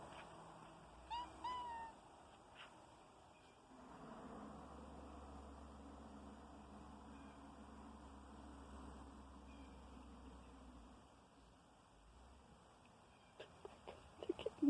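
Kittens playing at an outdoor watering hole give a few short, faint meows near the start and a cluster of brief chirpy sounds at the end, with quiet background noise in between.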